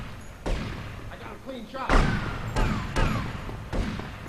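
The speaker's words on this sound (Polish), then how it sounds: "Słychać strzały." Several sharp gunshots ring out at irregular intervals in GTA Vice City, each with a booming tail, amid game sound effects and faint voices in the background.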